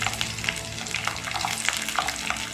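Spices, ginger and garlic fry in hot oil in a pan, with a continuous close sizzle and crackle broken by the soft scrape of stirring, and nobody talking.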